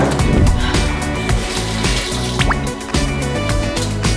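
Water running at a sink as someone washes their hands, steady splashing and dripping close by with a continuous flow.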